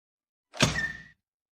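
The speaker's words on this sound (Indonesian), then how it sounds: "Kau tunggu di sini. Aku akan membuka pintu." A door opens with a single short thunk and brief scraping rattle, close and clear against otherwise silent surroundings.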